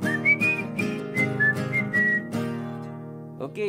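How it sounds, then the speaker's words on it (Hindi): A person whistles the intro melody of a song, a clear, close run of short and held notes over a sustained harmonic backing that fades out toward the end. "सीटी जो मैंने बजाई वो डी मेजर, जी मेजर और वापस डी मेजर"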